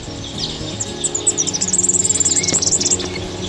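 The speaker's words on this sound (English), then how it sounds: "when you spin the sign, the tune of the bird is played" A recorded bird call plays from a spinning sign on a boardwalk near the Murray River in southern New South Wales, a rapid series of high chirps rising over outdoor ambience and faint background noise.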